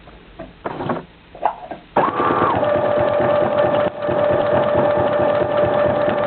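Sewing machine stitching a buttonhole: after a few soft handling knocks, the motor starts with a loud, even mechanical whir and rapid needle chatter, briefly dipping midway before continuing steadily.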